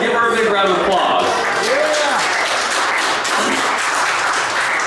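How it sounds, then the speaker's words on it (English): An audience at a mentalist's stage show applauds and cheers for his helper Marissa: dense, loud, sustained clapping from a full crowd, with a voice speaking over it near the start. "give her a big round of applause"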